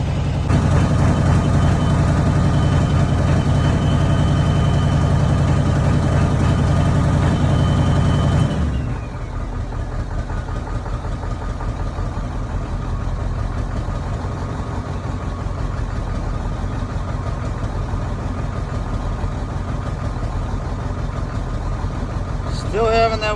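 Ford 7.3 Powerstroke diesel in an OBS truck idles loudly up close with a rough, uneven knock; the engine note drops abruptly about a third of the way through, then settles into a quieter, lumpy idle that continues to the end.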